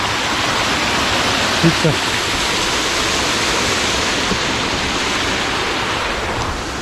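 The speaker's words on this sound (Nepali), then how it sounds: "यो खोलाको आवाज चाहिँ एकदमै ठुलो सुनिरहेको छ" A small stream with a waterfall after rain in Darjeeling roars in a loud, steady broadband rush throughout, close and continuous, with a brief spoken word near the start.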